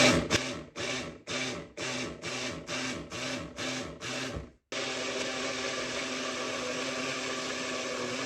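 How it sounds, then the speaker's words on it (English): A stick blender pulses aged garden peppers in a glass jar, giving about eight short whirring bursts with brief gaps between them, then one long continuous blend, loud and close. "It keeps sucking my stick blender to the bottom of the jar. So I have to pulse."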